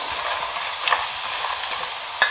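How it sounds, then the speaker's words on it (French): Squid, shrimp and mussels fry in a pan over very high heat, giving a steady, close hiss of sizzling with a few brief sharp spits and crackles. "dans l'autre poêle, je vais mettre les fruits de mer, les calamars, les crevettes et les moules à feu aussi"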